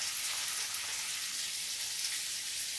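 Two tablespoons of Kerrygold butter sizzle as they melt into a pan sauce, a steady, close, bright hiss that holds evenly throughout with no voices.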